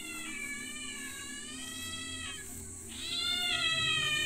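A cat meows in the horror video game Shadow Corridor, several drawn-out meows in a row that are fairly faint over a steady low ambient hum, with the last call louder.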